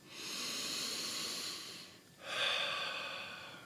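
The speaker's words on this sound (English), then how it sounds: "breathing in through the nose and then out through the mouth" Slow, audible breathing during a guided meditation: a long airy inhale through the nose, a brief pause, then a steady hissing exhale through the mouth, close and alone with no talk.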